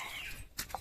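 Farmyard chickens give a couple of short clucks close by over a low background, within a brief moment and with no talk.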